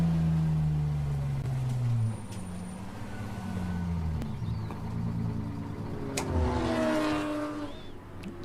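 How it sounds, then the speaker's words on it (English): Race car engines at a World Racing League endurance event at Mid-Ohio, a steady droning roar with pitch sweeps as cars rev and pass, continuous and fairly loud throughout. "Okay, shutting the car off."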